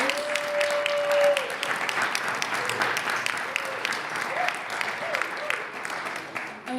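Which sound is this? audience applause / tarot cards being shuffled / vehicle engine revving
audience applause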